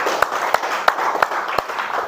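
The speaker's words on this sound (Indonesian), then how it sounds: "tepuk tangan untuk Pak Hari Aslam." A class in an academic coaching session applauds a participant, a short burst of scattered rhythmic clapping from a small group with some voices mixed in.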